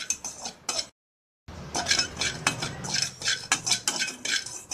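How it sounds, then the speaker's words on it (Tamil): Salt being dry-roasted in a kadai on the stove, a rapid series of metallic scrapes and clinks of a spoon against the pan, briefly cut by a moment of silence before the stirring resumes. "இப்போ அடுப்பை பற்ற வச்சு கடாய் வச்சு உப்பை போட்டு கொஞ்சம் வறுக்கலாம்"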